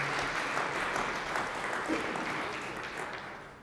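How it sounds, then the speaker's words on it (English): An audience at a startup pitch competition claps on stage for a hardware founder, a dense, fairly distant wash of applause that gradually tapers off. "give a huge round of applause for Dear Eyewear"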